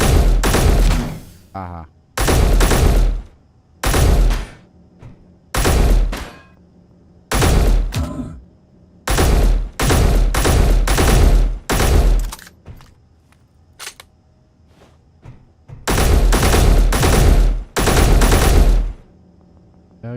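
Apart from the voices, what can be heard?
gunfire from a gun in a video game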